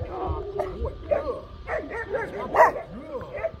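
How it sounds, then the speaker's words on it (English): A dog barks in short, repeated bursts with some yips and whimpers at someone walking on the property, while a person talks nearby between the barks. "He's barking at somebody walking on the property."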